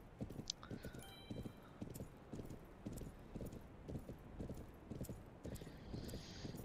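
Steady clip-clop of unicorn hooves riding across the USA in the horse game Planet Horse, an even galloping rhythm of soft thuds repeating throughout with faint chimes above.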